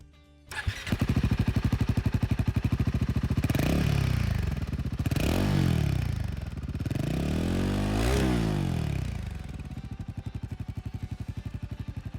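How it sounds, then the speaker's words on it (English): A Royal Enfield Himalayan 452 motorcycle fires up close by and idles with a steady thumping exhaust note, then is revved three times in rising and falling sweeps before settling back to idle, with no talking over it. "Now it's time to listen to the exhaust note of the new Himalayan 452."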